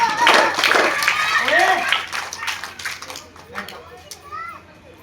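Hands clapping at a traditional village monkey show, quick scattered claps mixed with lively children's shouts and chatter, close and fairly loud, fading somewhat toward the end.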